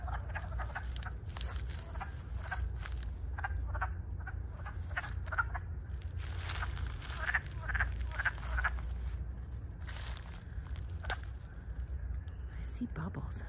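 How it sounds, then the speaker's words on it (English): Repeated short croaking calls from frogs at a moderate distance, irregularly spaced, over a steady low outdoor rumble and faint whispery sounds. "a more typical frog sound"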